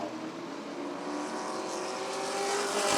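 Sportsmen-class race cars lap Rockford Speedway, their engines droning steadily at a distance and swelling gradually louder as the field approaches.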